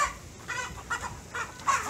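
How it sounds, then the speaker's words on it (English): Chickens in a North Carolina yard give short, repeated clucking calls in four or five brief bursts, fairly faint and slightly distant, with no talking. "And look at these chickens."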